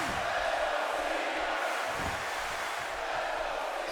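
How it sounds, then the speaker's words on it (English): Video game arena crowd in WWE 2K17 cheering as John Cena rallies during a RAW match, a steady, dense roar of many voices filling the whole stretch at constant loudness, with no commentary over it. "As this crowd starts to get behind John Cena as he starts to rally."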